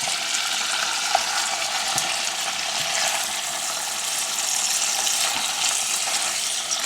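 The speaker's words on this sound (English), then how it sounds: "I'm going to try and do a little bit of a flip with the salmon" Salmon fillet frying in a hot pan for a seafood fettuccine dinner, a steady bright hissing sizzle that holds even throughout with faint scattered pops.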